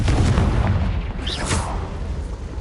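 Confringo blasting-spell explosions in the Hogwarts Legacy game, a continuous run of heavy booming bursts with a dense low rumble throughout, loud and close, with no talking.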